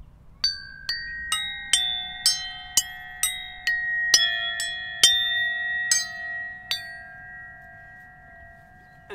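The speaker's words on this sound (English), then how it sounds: "This is a bell tree made from recycled aluminium castings." A handmade bell tree of recycled aluminium castings is struck about a dozen times at a brisk pace. Each bright metallic note rings on and overlaps the next, close and alone.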